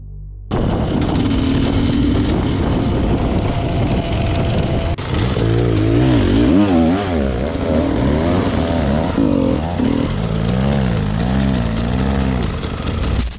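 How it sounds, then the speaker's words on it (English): A motorcycle engine roars loudly and continuously in a forest, its pitch rising and falling as it revs, with an echoing, sustained drone that fills the whole stretch. "The engine roared, echoing through the trees like something unleashed."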